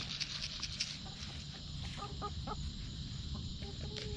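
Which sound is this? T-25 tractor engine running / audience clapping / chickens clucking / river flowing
chickens clucking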